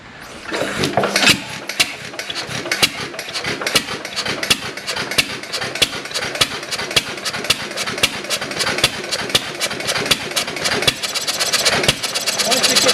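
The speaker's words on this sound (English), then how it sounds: "Running, and you don't hear that spark, that's hit and miss motor" Hit-and-miss engine at a historical society turning over and running, with a steady rhythm of sharp firing pops over a continuous mechanical clatter, close and fairly loud, while someone talks over it.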